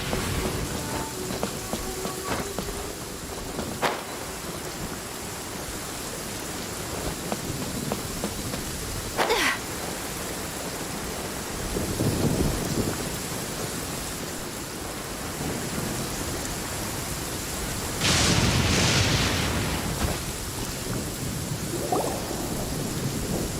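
Rain and thunder in the Genshin Impact video game: a steady hiss of rainfall runs throughout, broken by several rolling thunder rumbles, one sharp crack early and heavier swelling rolls later.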